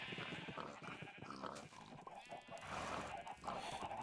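Minecraft sheep let out nasal, wavering bleats at moderate loudness over game background sound, the calls repeating across the stretch.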